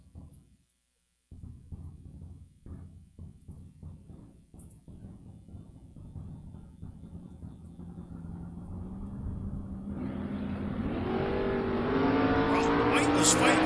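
Drag racing at the start line, a 1968 Camaro against a 1974 Nova: engine rumble and revving that builds into a loud, rising roar of acceleration near the end. No talk is heard.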